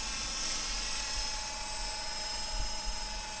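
A steady, high-pitched buzzing whine of a KDS 700 model helicopter rotor, continuous and fairly distant, with a low rumble beneath and no voices.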